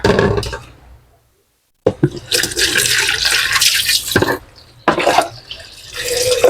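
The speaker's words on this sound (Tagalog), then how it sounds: "Matiktikan po ng tubig ang ampalaya." Water is poured in bursts over bitter gourd (ampalaya) as it is washed, giving loud splashing and gushing in several separate pours with brief quiet gaps.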